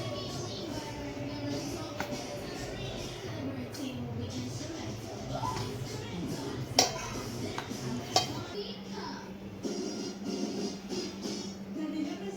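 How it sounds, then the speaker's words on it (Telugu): Rice flour dough for chakralu is worked by hand in a bowl, giving soft, irregular squelching and mixing sounds with a couple of sharp clinks, fairly quiet and close, without talk. "పిండంతా ఈ విధంగా కలుపుకోవాలి"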